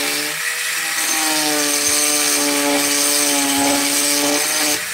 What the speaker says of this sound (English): I'm just clearancing the piston skirts at this point.